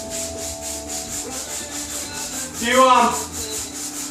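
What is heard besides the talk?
hand sanding pine cabinet with 150 grit sponge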